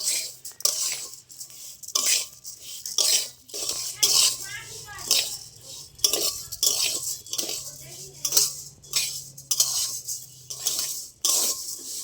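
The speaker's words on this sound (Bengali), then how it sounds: "এইভাবে নেড়ে নেড়ে একটু শক্ত করে নেবো চালটা" Rhythmic scraping and rattling as rice is dry-roasted in a pan for making puffed rice, repeated stirring strokes roughly every second, close and crisp, with brief bits of talk between.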